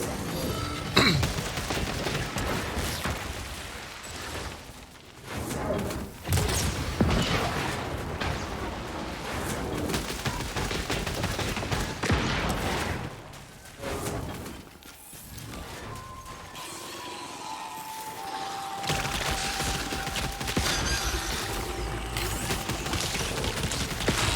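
Pistol fire from the sci-fi shooter Returnal rings out in dense, rapid bursts amid a loud, continuous barrage of booming game combat, with a brief lull midway before the chaos resumes.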